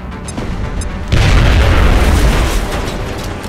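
A frag grenade goes off in XCOM: Enemy Within, a single loud, deep boom that hits suddenly and rolls out into a broad, rumbling blast lasting a couple of seconds before slowly tailing off.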